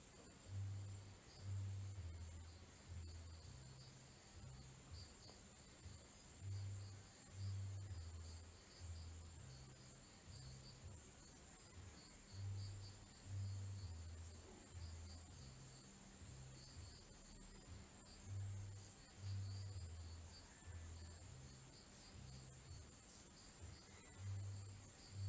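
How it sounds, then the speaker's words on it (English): Faint crickets chirp in a steady, pulsing rhythm against a quiet night background, with no voices. "You guys can hear the crickets and stuff."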